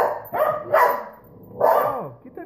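A puppy barks and yips in quick bursts, three loud close barks spaced through a couple of seconds, with some growly undertones between them.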